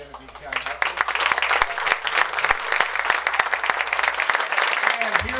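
An audience at a community banquet applauds after a hospital medical director is recognized, dense continuous clapping filling the room for several seconds with some voices mixed in.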